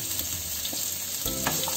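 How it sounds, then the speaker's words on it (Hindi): Onion and green chili fry in a pan with a steady close sizzle, broken by a brief stir partway through, no talk. "प्याज को भी दो मिनट तक फ्राई कर लेंगे।"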